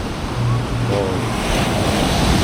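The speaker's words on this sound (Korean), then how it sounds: "여기는 파도가 세가지고 서핑하시는 분들 되게 좋을 것 같아요." Strong ocean surf at a beach in Bali crashes in a continuous loud roar, close by, with wind buffeting the microphone and faint voices underneath.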